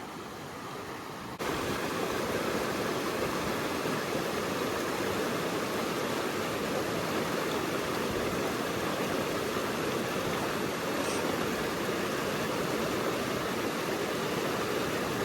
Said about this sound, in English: Our first major river crossing of the PCT.